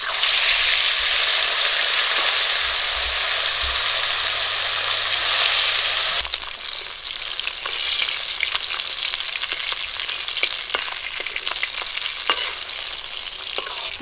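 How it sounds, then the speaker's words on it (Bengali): River bata fish fry in hot oil with a steady, dense sizzle that stays close and loud throughout, its texture shifting partway through as the pieces are moved. "বাকি মাছগুলো একই রকম করে ভেজে নেব।"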